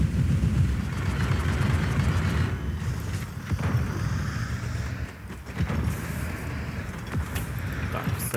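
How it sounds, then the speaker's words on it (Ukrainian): A rumbling, heavy boom from an airstrike in the tank combat game Project CW, featuring an M1E1 Abrams, rolls on as a dense low roar with scattered crackles, loud and continuous throughout. "Є авіаудар"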